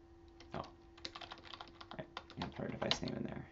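Someone taps out a device name on a computer keyboard, producing quick, irregular close-up keystroke clicks that build into a busier flurry toward the end, with a faint steady hum in the background.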